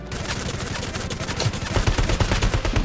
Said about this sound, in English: And I get him with the headshot with the combat AR